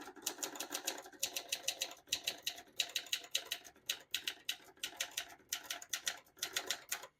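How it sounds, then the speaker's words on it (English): Rapid mechanical clacking of a 1964 Adler Tippa portable typewriter, bursts of keystrokes with brief pauses between, close and crisp, no voices. "I'll type a sentence on the next line."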